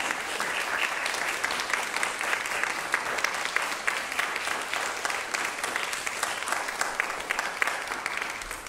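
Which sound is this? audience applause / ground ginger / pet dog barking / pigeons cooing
audience applause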